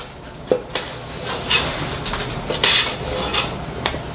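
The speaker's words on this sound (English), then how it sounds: "we're going to stir this up good" Homestyle chili with beans is stirred in a pot, a spoon scraping and clinking against the sides with several sharp metallic knocks spread over a steady rub, close and fairly loud with no talk.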